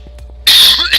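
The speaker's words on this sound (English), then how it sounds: "Sorry, I have to cough." A single loud, harsh cough bursts out midway through, close to the microphone, after a stretch of quiet room noise with faint small sounds.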